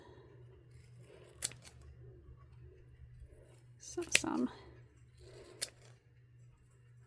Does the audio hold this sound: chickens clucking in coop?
no